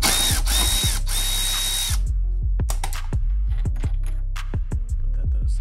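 Ratchet wrench loosening an 8mm bolt on a Mercedes headlight assembly at the passenger-side bumper, with rapid clicking bursts followed by slower, spaced ratchet strokes, close and fairly loud.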